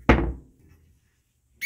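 Glass closet door closing in a house: one sharp close thunk that rings out and decays, followed by quiet and a brief sound starting at the very end.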